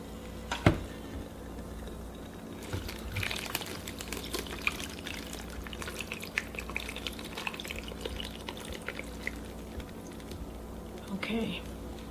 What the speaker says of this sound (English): Now I'm just going to pour this over.